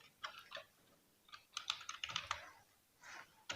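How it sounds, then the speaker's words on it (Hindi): Typing on a computer keyboard while entering data in Excel, quiet close-up clicks in short irregular bursts with pauses between them, and no talking. "मैं टाइप कर लेता हूँ"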